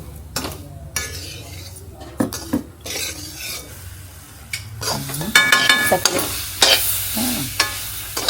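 Semolina roasting with mango pulp and ghee is stirred in a pan, with repeated close scraping and clinking of a spoon against metal over a steady sizzle, growing busier and louder toward the end.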